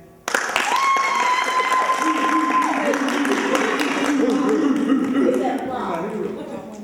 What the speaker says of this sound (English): You guys applaud furiously